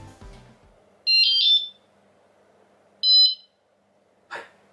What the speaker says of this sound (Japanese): このタタタン、タンと2段階に音が鳴りましたら、今、防犯アラームがオンになっている状態です